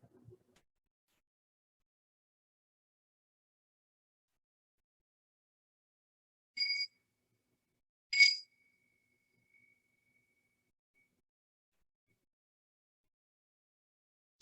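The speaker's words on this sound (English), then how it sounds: "And the sound of the bell" A meditation bell strikes twice with clear metallic tones, the second ring lingering in a short fading hum, surrounded by near silence.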